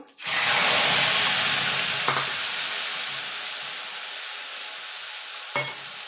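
Masala paste hits hot oil tempered with a bay leaf and whole cumin for an aloo dum, bursting into a loud sizzle that slowly fades, with two brief stirring scrapes later on.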